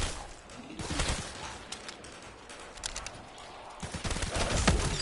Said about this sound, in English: Bootlegger's one of my favorite guns